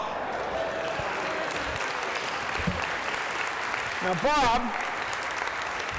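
A studio audience at a live science show claps in a sustained, steady patter while someone speaks over it, with a brief whoop rising from the crowd toward the end.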